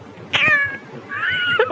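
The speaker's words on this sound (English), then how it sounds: "One of my cats has gotten up on the control board and is meowing into the microphone." A cat meows twice into a studio microphone at close range, loud and drawn out, on a radio show's control board, with a short pause between the two calls and no talk.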